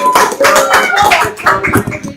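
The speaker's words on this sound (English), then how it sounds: "please give a round of applause for Mr." An audience claps for a speaker coming on stage, a close burst of uneven hand claps that swells and thins over a couple of seconds.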